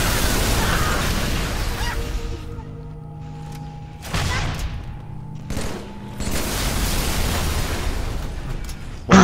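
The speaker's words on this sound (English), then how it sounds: "Watch out for that explosion" Explosive barrels blow up in the Halo 3 video game, several loud booms and bursts in quick succession with gunfire between them, the blasts separated by quieter stretches.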